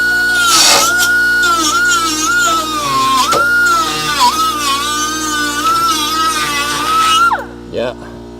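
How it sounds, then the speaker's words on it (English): A die grinder grinds at rusty metal on the passenger-side inner rocker of a Dodge Coronet crew cab, a loud, close, high whine that wavers in pitch as it bites, then cuts off near the end. "let's get back with the die grinder"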